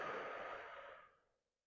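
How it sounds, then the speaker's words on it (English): One long, soft exhale through the mouth during diaphragmatic breathing, close to the microphone, airy and gradually fading to silence. "Exhale."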